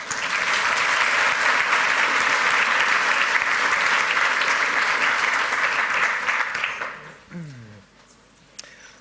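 Sustained, dense audience applause at a lightning talk session of a hacker congress, loud and steady for several seconds before thinning out, followed by a brief voice near the end.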